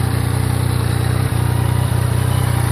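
A 2016 Yamaha MT-09 Tracer motorcycle engine runs steadily at idle just after starting, a loud, even low rumble with a slight pulsing beat throughout, no voices.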